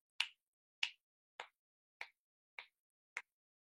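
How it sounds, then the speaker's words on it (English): Six crisp finger snaps, evenly spaced about half a second apart, sharp and close against silence. "that same sound of my snapping my fingers"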